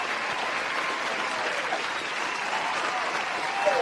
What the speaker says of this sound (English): We want some applause in the building.